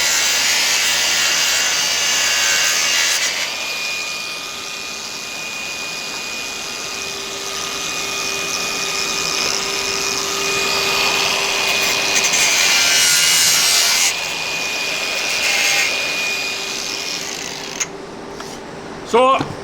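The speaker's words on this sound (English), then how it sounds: "We've just got a rubbing block or a sanding block like that." Steady scratchy rubbing of a sanding block against plastic trim during a Ford Transit Custom swivel seat install, continuous and close for most of the stretch before easing off near the end.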